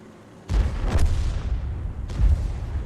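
Tank cannons firing in World of Tanks, an IS-3 and a UDES shooting at an Object 430, with a loud sudden boom followed by a rumbling tail and a second heavy shot about a second and a half later.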